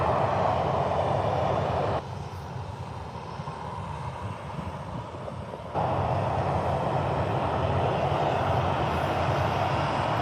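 Airliner jet engines at Birmingham airport, Ryanair and EasyJet traffic, roar steadily from a distance, dipping quieter for a few seconds midway before the broad rumble swells back to full strength.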